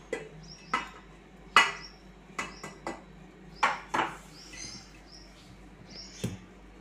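Spoon clinking and scraping in a bowl as powdered sugar is stirred into homemade cake batter, with a handful of sharp taps and scrapes in an uneven rhythm, fairly quiet and close, with no talking.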